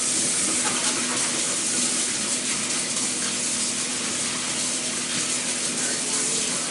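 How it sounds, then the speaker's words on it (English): Hands are washed under a running kitchen tap, a loud, close, continuous gush of water that stays level from start to finish. "Let me wash hands now."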